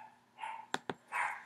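A dog gives two short, sharp barks, nearby but fairly quiet, with softer whining tones just before and after in an otherwise quiet room.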